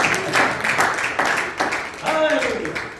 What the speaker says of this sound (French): Donnez une bonne main d'applaudissement